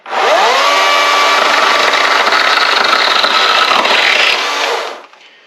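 Powered saw cutting a small wooden nub off a planter box, a loud steady whine that holds for about four and a half seconds, then winds down at the end, with no talking.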